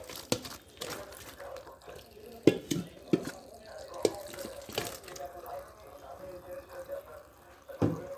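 Cold tap water runs and splashes over boiled jujubes being drained and cooled, a faint uneven trickle with soft drips and clinks, close by and mostly alone with little talk.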